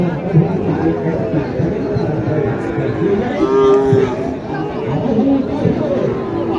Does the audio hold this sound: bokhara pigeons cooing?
no